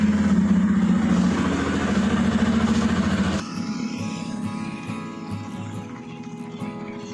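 A secondhand Bajaj Pulsar 250 motorcycle idles close by with a loud, steady thrumming rumble that drops abruptly about halfway through to a quieter, lower hum.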